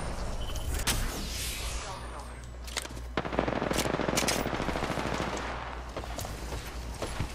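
Sustained automatic gunfire from an Apex Legends fight rattles loudly and continuously, with bursts overlapping into a dense fusillade that stays near and intense throughout.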